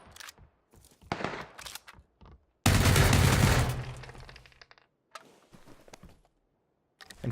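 Gunfire effects from a battle royale video game: scattered sharp shots, then a dense loud burst of rapid fire, followed by further isolated cracks with gaps of silence between.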